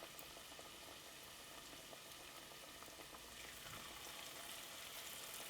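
Gluten-free churros fry in very hot oil, a steady, dense sizzle and bubbling that holds at an even level throughout and stays faint, with no voices.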